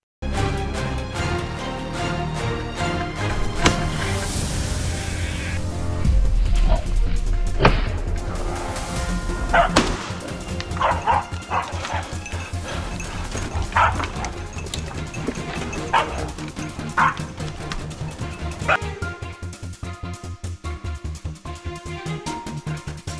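Hunting dogs barking during a wild boar hunt in farm fields: a pack barking and yelping continuously and loudly, with overlapping yips and occasional crashing sounds, close and dense throughout.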